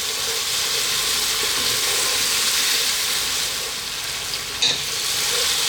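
Spice paste frying in a pot for chicken kabsa, a dense, even hiss and sizzle throughout, close and steady, with one brief clink near the end.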